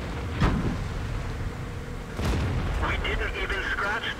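A tank gun fires in a video game, giving two deep booms about two seconds apart over a low rumbling background, with a voice talking over the later part.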